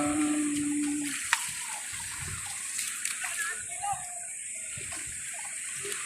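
Strong sea waves at a summer beach outing, a continuous close wash of splashing and surging water that stays loud throughout, with voices talking over it.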